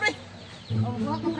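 A chicken clucks briefly, close and moderately loud, with a faint background murmur.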